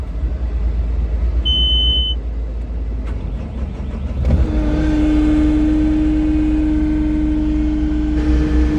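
A John Deere 9770 combine cab's air conditioner is turned up, its blower rising at once into a loud, steady rush over the low engine rumble, with a brief electronic beep just before.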